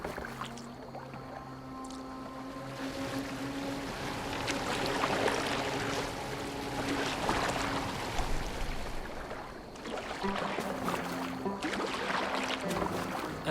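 A boat moving across open water, with a continuous wash of water and hull noise, swelling louder through the middle and easing off, with no talk over it.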